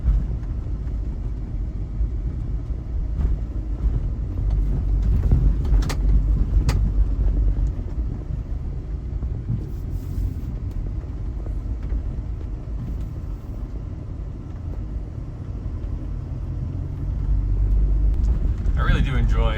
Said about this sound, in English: the roads are obviously dirt and in rough condition, but it is enjoyable to drive on